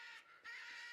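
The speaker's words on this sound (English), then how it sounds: "The bird just screaming at me," A bird enemy in the game Tales of Berseria lets out shrill cawing screeches, loud and close, with a short break before a longer cry.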